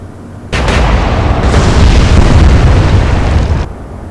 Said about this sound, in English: Warspite, open fire. Shoot!